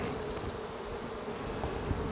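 Honeybees buzz steadily in an opened hive in a spring bee yard, a dense, close, continuous drone with no talking.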